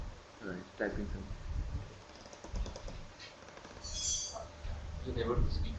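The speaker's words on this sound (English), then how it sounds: "Right, typing something." Someone types on a computer keyboard during an online group session, a soft, fairly steady clatter of keys running under people talking in the background.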